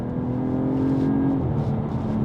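BMW M440i Gran Coupe with the B58 engine pulls hard from inside the cabin, its exhaust giving a steady, loud droning hum that rises slightly in pitch, then settles as the revs shift, with no voices over it.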